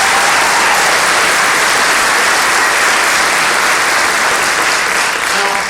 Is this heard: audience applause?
yes